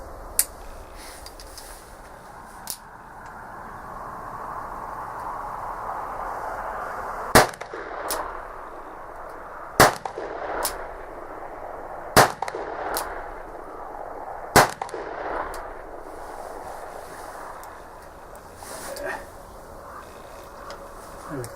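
An Uberti 1860 Army cap-and-ball revolver fires a run of sharp, loud shots, several evenly spaced a couple of seconds apart, cracking over a steady outdoor background hum.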